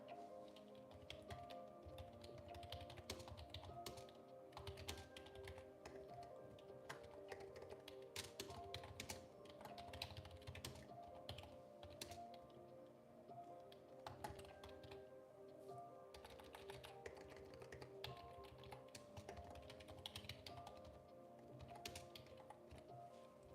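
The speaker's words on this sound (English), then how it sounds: "Let me type this better." Rapid, steady typing on a computer keyboard that is glitching, dense clicky keystrokes running continuously at close range with no talking.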